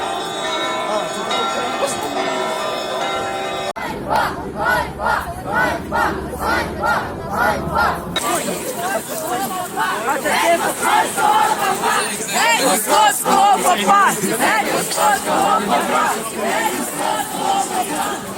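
A large crowd of children and teenagers chants and shouts in rhythmic bursts near a UOC cathedral in Ternopil, loud and sustained, with a bell ringing briefly early on.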